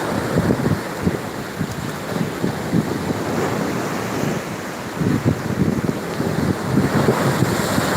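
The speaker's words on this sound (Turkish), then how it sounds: "Çünkü bayağı dalga var denizde." Sea waves breaking on an Istanbul shore under strong wind, steady surf wash with rhythmic surges and heavy wind buffeting the microphone throughout.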